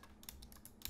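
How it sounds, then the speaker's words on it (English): A computer mouse button is jitter-clicked rapidly during a Hypixel Bed Wars game, producing a fast burst of faint, crisp clicks in an irregular rattling rhythm. "can hear this, but this is jitter clicking."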